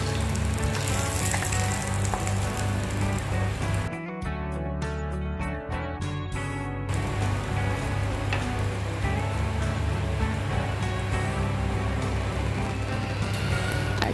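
Panch phoron spices crackle and sizzle in hot oil in a home kitchen pan for a fish curry, a dense continuous hiss with sharp popping spits, loud and close, with a brief break partway through.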